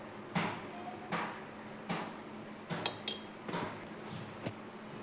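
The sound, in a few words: spoon mixing spices into fish egg fry in a pan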